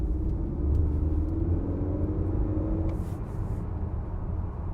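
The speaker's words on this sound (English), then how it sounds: "the car gets up to speed really quick without even having it in sport mode" A 2018 Honda Accord Touring with a turbo engine accelerating on the road, heard from inside as a steady low rumble with a rising engine tone, and no one speaking.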